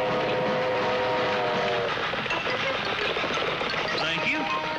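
A train rumbles along steadily with rattling carriages and a brief whistling tone early on, loud and continuous throughout.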